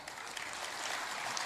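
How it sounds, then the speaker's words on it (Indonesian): Crowd applause at an Indonesian government event honoring the housing minister, a steady broadband patter of many hands clapping at moderate, even loudness with no talk. "tepuk tangan untuk Pak Ara"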